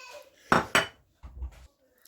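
Mashed potato filling with spring onions and frozen coriander being mixed in a bowl, two sharp clatters of utensil against dish followed by softer scraping thuds, close and alone.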